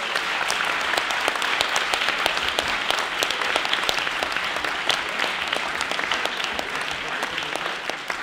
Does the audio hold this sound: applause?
yes